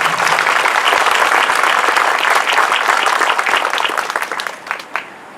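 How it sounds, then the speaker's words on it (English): An audience at a city Veterans Day ceremony claps loudly in honor of veterans, a thick, continuous burst of applause that thins out over the last second into a few scattered, separate claps. "So let's give them a round of applause."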